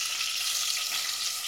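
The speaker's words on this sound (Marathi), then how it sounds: "हे डायरेक्ट कांदा आणि टोमॅटो आपण त्याच्यामध्ये टाकून देऊया. तर तेल तापलेलं चांगलं बऱ्यापैकी" Onion and tomato fry in hot oil for a Maharashtrian mutton curry, giving a loud, steady, close sizzle with no breaks.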